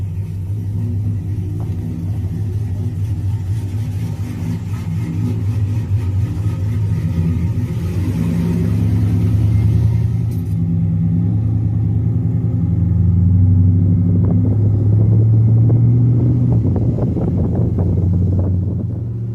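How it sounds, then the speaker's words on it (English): A 2002 GMC Sierra pickup truck's engine with a chopper cam rumbles loudly with deep exhaust tones, rising as it revs, with wind buffeting the microphone throughout. "I love the way this truck sounds."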